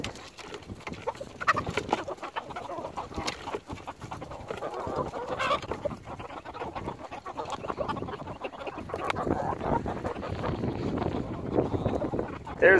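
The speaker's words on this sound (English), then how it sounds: "silver-laced Wyandotte. I think he's the head dude. He's a very well-mannered rooster." Silver-laced Wyandotte rooster clucking and calling at a backyard coop, moderately near, with wind buffeting and rustling around it.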